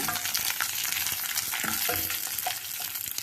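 Ingredients frying in a pan for lemon rice, a continuous loud sizzle broken by repeated stirring scrapes and clatters throughout, with no one speaking.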